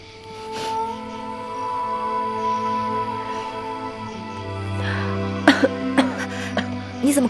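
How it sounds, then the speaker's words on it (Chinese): A person coughs in a drama scene, with several short, close coughs bunched toward the end over soft sustained background music tones. "怎么咳嗽"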